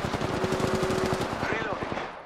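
Rapid automatic gunfire in the Apex Legends battle royale, a loud, fast stream of close shots that tapers off toward the end, with a brief tonal effect sounding partway through.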